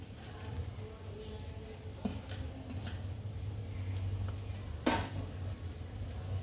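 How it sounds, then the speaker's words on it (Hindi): Cauliflower, carrot and capsicum fry in about a teaspoon of oil in a pan, making a steady low sizzle with a few sharp clicks from stirring and no talking. "अभी इसमें डालते हैं 1 टीस्पून जितना ऑयल और इसके साथ डाल देते हैं गोभी, गाजर और कैप्सिकम"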